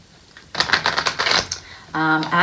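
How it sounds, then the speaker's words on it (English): A deck of tarot cards being shuffled by hand, with a run of quick, close riffling and flicking taps followed by a voice starting to talk at the end. "This actually was my first deck that I'm shuffling right now."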